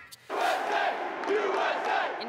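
Crowd of pro-Trump students cheering and shouting together at a rally, a loud sustained roar that swells abruptly after a brief quiet start and holds steady throughout.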